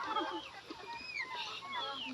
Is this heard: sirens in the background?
no